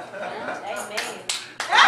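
Hands clapping at a church service in a sanctuary, a few sharp claps breaking out near the end of a short stretch of mumbled voices and faint laughter.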